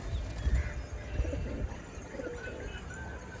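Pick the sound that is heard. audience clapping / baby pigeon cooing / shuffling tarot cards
baby pigeon cooing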